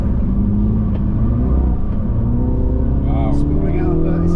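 Turbocharged engine of a 2023 MINI John Cooper Works S on a track at the BMW Performance Center, a loud steady drone with rising and falling revs as it accelerates and shifts, with a voice talking over it.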